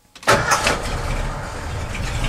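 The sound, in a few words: Ford truck engine starting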